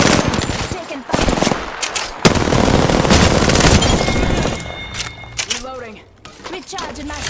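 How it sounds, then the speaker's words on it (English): Automatic gunfire from the video game Apex Legends rattles in loud, rapid bursts over game sound effects. Short chirping electronic tones and a brief quiet gap come in toward the end. "Taking fire."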